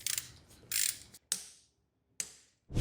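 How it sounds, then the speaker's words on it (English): A torque wrench tightening the wheel on a 2026 Talaria Komodo electric dirt bike to 55 Nm: short bursts of close, sharp ratcheting clicks separated by silent pauses, ending in a final snap. "And I'm going to torque that to"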